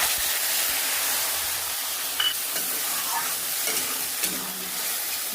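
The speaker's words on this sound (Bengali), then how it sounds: "ওই একই তেলে শুকনো লঙ্কা আর তেজপাতা ফোড়ন দেবো, আর বেটে রাখা মশলাগুলো দিয়ে দেবো।" Dried red chilies, bay leaf and ground spice paste fry in hot oil, giving a steady crackling sizzle with a couple of sharper pops and stirring scrapes, close and fairly quiet.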